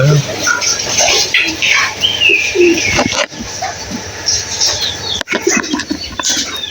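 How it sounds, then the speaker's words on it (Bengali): Pigeons coo and call close by while people talk over them, with occasional wing flaps, a dog whimpering faintly and brief bumps breaking the steady outdoor sound. "কবুতর গুলো উঠছে উঠছে কি সুন্দর"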